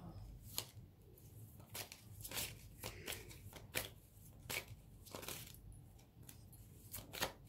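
Several tarot and oracle card decks being shuffled for a reading, heard as soft, close riffling and snapping bursts that repeat at irregular intervals, fairly quiet, with no talk.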